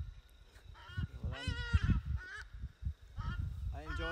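Several Hadada ibises calling in flight, loud harsh honking 'haa' cries repeated in ragged bursts, fairly close, over a low rumbling background.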